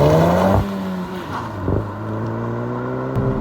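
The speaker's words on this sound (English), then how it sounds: "all you get is just that kind of flat 2-liter inline 4 engine note" Engine drone from a 2024 VW Golf GTI with a manual gearbox and 2-liter inline-4, heard from inside the cabin: a harmonic engine tone that rises, drops with a gear change, then holds steady and fairly loud.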